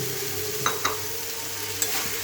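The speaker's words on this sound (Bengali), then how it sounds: "এটা মোচার জল শুকিয়ে হালকা ভাজা ভাজা হয়ে গেছে। তো এখন আমি আলুগুলোও দিয়ে দিই।" Banana flower and potatoes fry in a pan for a Bengali mochar ghonto. A soft steady sizzle runs throughout, broken by a few sharp scrapes and taps of the stirring spoon.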